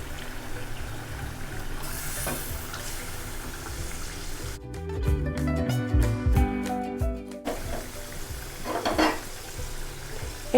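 Poa fish goes into a pan of cooked spice masala, a low continuous sizzle with a louder, crackling burst in the middle as the fish hits the hot oil, then settling back to a gentle fry.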